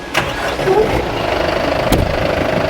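A Kubota M9808 tractor engine runs steadily inside its air-conditioned cab, a muffled, even broadband drone with one sharp click near the end and no talking.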